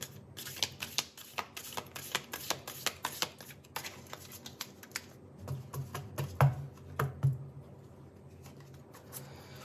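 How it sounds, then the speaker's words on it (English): Tarot cards are shuffled with quick papery riffles and slaps, fairly close and quiet, then a few slower taps and thumps near the end. "So let me shuffle the cards one more time."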